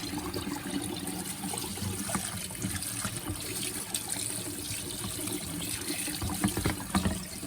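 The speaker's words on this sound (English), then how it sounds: "And it shouldn't take long to just rinse it good." Water running and trickling over homemade butter as it is rinsed of buttermilk, a steady close splashing flow with small gurgles and no talking.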